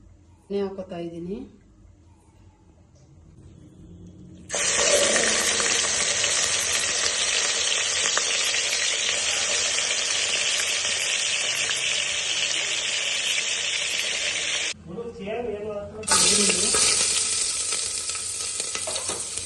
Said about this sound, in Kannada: ಇವಾಗ ಒಗ್ಗರಣೆ ಮಾಡೋಣ ಬರ್ರಿ. ಇವಾಗ ಎಣ್ಣೆ ಹಾಕೋತಾ ಇದ್ದೀನಿ.